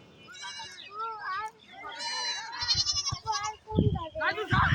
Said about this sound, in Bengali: ওই যে ছাগল।